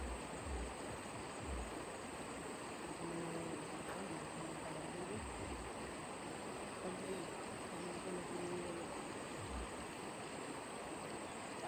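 A river flowing, a steady broadband rush of water that continues unbroken throughout, with quiet voices talking faintly under it.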